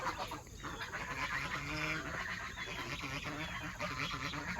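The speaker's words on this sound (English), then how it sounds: "What are y'all two honking at? Mother goose?" A pair of farmyard geese honk repeatedly near a garden, their nasal calls rising and falling in quick overlapping bursts against a steady outdoor background, with no one speaking.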